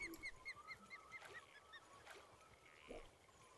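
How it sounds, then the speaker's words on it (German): A bird in the fishing video game Fishing Planet calls repeatedly in a quick series of chirps and honk-like notes, faint and distant against low ambient noise. "Man hört nur diesen Drecksvogel hier zwitschern"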